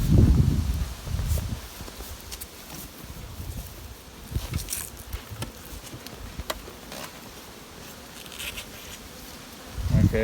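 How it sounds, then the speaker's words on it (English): Honey bees buzz around an open hive brood chamber in a colony with laying workers. A dense, continuous hum fills the air, close and steady, with occasional soft knocks and handling sounds. "the bees are busy building new wax"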